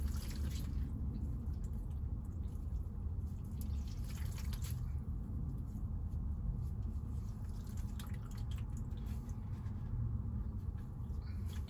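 Dirty dishwater trickles and drips into a jug in a steady, close, low-level stream of liquid noise with faint splashes throughout.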